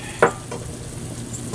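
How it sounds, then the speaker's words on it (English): Meatballs in red gravy are stirred in a cast iron pan, one quick scrape of the spoon followed by a low bubbling simmer, close and fairly quiet. "Kind of stir that in a little bit."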